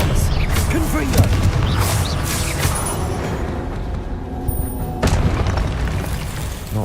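Repeated Confringo blasting-spell explosions in the Hogwarts Legacy video game, loud booming bursts layered over continuous dense combat noise with occasional spoken spell calls.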